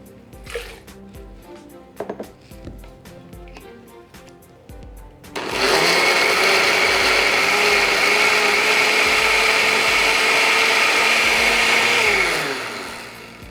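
A blender purees a fermented ají amarillo hot sauce, starting after a few clinks and knocks, then running loud and steady for several seconds before winding down.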